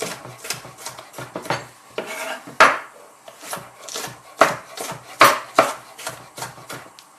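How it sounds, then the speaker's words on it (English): A knife chops and thinly slices on a cutting board for Thai green coconut curry, with quick irregular strokes and several harder thuds, close and clear with no talking. "cut it into quarters. And then just thinly slice it."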